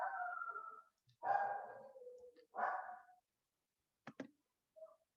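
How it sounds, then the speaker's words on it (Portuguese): A dog barks at home in the background of an online maths lesson, several faint, distant barks spread over a few seconds with quiet gaps between them. "esse barulho de cachorro aí é da sua casa?"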